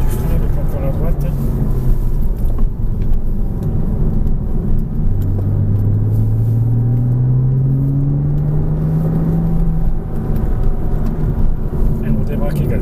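Car engine revving and accelerating hard at full throttle on a race track, a loud steady rumble with a rising engine tone mid-clip, under an instructor's voice talking throughout.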